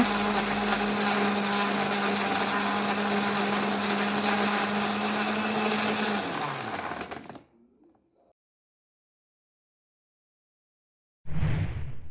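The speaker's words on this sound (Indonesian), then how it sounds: "Haluskan bawang dengan menggunakan blender." A loud blender grinding garlic whirs steadily for several seconds, then winds down to silence before briefly roaring to life again at the end.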